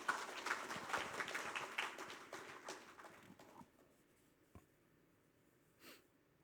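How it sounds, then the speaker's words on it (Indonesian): A scattered round of clapping at a corporate event on conservation, moderately loud at first, then thinning out within a few seconds to isolated claps and quiet room sounds. "Boleh tepuk tangan dong untuk Menedi."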